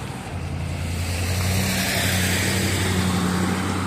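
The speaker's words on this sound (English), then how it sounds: "letting this truck pass" A truck passes by outdoors, a steady low engine rumble with a droning hum that holds loud and close for the whole stretch, with no talking.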